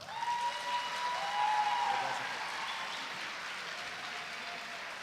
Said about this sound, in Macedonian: ајде да ја отвориме со еден огромен аплауз